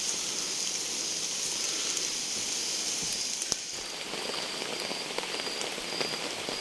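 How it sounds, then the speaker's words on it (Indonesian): Heavy rain pours down at a riverside camp, a dense steady hiss of drops pattering on surfaces with a few louder taps, continuous and close. "Hujan sobat."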